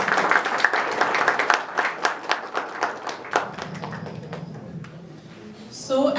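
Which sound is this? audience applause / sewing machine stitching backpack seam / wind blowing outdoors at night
audience applause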